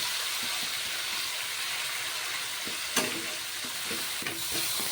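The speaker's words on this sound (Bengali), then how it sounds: "দিয়ে দেবো হলদির গুঁড়ো তো এখন মশলাটাকে একটু ভালো করে ভেজে নেব" Spices with turmeric powder fry in a pan with a steady, close sizzle while being stirred, with a couple of sharp utensil scrapes and taps near the middle and end.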